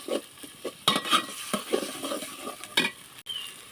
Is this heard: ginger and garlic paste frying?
yes